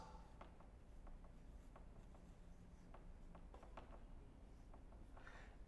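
Pen writing by hand on paper, quiet close scratches and short strokes with small taps, steady and soft against a faint hiss; no talk.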